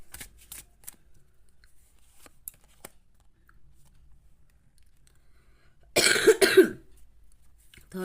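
Tarot cards are shuffled briefly in a quick riffling burst near the end, with a few faint taps and handling sounds earlier in an otherwise quiet room.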